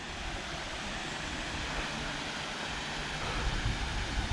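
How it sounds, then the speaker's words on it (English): Water rushing steadily past a woodland resting spot strewn with fallen branches and trees, a broad, even wash of flow heard close by and fairly soft throughout. "listen to the sounds of the water"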